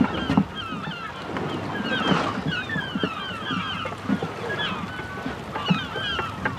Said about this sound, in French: allez prévenir le capitaine que les oiseaux sont là!